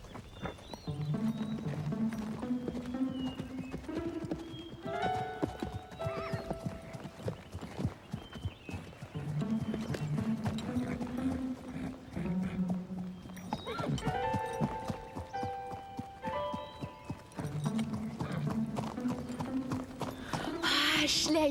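Horse hooves clip-clop in a steady rhythm as a pony is ridden, with a whinny mixed in and voices talking over the hoofbeats.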